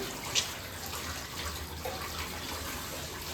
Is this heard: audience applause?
no